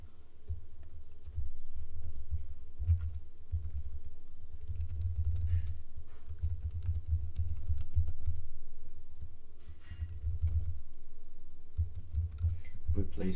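Keyboard typing during a live programming session, a steady close patter of keystrokes in irregular bursts running throughout, fairly quiet and with no one talking.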